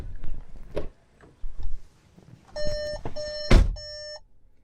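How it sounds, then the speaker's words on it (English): A 2022 Volkswagen Taos subcompact SUV sounds its door-open warning with the engine running: three short bursts of steady electronic beeping, separated by brief gaps. Rustling and a thump from the open door come through between and under the tones. "This car really likes to beep if you open the door with the engine running."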